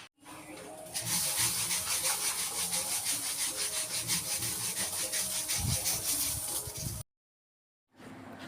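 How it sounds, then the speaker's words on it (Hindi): Rice being cleaned by hand makes a continuous rhythmic rustling and scraping of grains, loud and close, then stops abruptly before resuming briefly. "मैं बैठ गई यहाँ पर चावल साफ़ करने के लिए"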